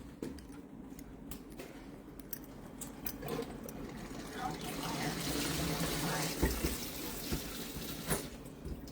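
Water runs and trickles into a blender jar of thick smoothie, a soft steady pour that builds louder toward the end, with faint household clatter in the background.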